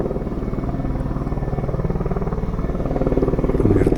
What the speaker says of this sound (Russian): Там вертолет.